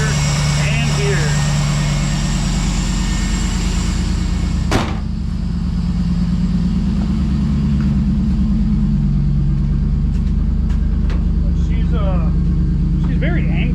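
An old junker car's engine runs at a steady, rough, rumbling idle nearby for the whole stretch, while people talk over it.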